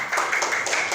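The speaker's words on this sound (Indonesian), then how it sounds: "Oke, tepuk tangan buat kelompok" A classroom group claps for group 1 after its presentation, a short patter of hands clapping at moderate volume, steady for about a second.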